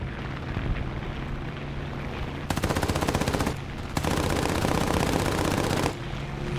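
Aircraft machine guns on a Japanese A5M4 fighter in War Thunder rattle in two rapid sustained bursts, loud and close over a constant engine drone, with a short pause between them.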